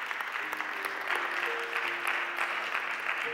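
Church congregation giving a hand clap of praise, sustained crowded clapping at moderate level with a few faint sung or called-out tones threading through the steady patter.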